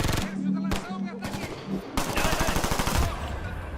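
Machine gun fire rattles in the shooter video game Ghost Recon Future Soldier, with dense rapid bursts close and loud, broken by brief pauses, under shouted voices.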